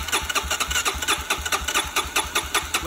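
A Honda TRX 400 ATV engine being rebuilt cranks and sputters into life, with rapid rhythmic chugging pulses close by and an uneven, knocking beat.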